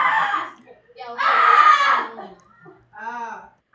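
People scream loudly at an esports practice session, with three close, shrill bursts of shouting separated by short pauses.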